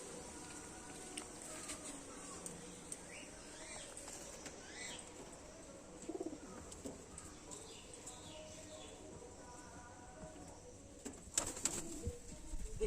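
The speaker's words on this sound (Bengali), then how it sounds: "ধাড়ি পায়রা বা বাট্টা পায়রা এইসব আছে" Adult pigeons coo softly and repeatedly in a loft holding Kalanka-type birds, with wing flutters and a steady background hum; a few brief louder rustles near the end.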